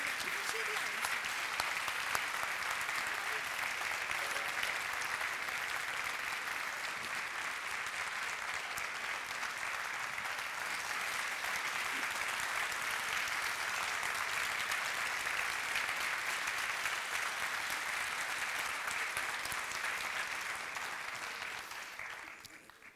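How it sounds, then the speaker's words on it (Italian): Sustained audience applause after an archaeology lecture, a dense, steady clatter of many hands lasting over twenty seconds at even strength before tapering off at the very end. "l'applauso così prolungato"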